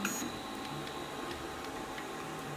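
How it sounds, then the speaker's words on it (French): Faint mechanical ticking and soft whirring from a Sidewinder X1 3D printer wiping its nozzle, a quiet steady hum with light intermittent clicks, close by with no voices. "là j'ai un petit essuyage de la buse"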